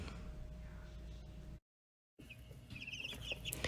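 Chicks in a brooding box give soft clucks and peeps under a steady background hum, briefly cut to silence before the faint chirping resumes.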